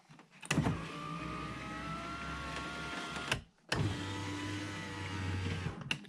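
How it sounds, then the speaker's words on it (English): A Dodge Caravan passenger power window motor runs in two steady whirring strokes, one up and one down, each starting and stopping with a click, close and clear with no talk over it. "you just want to watch the window go up and down"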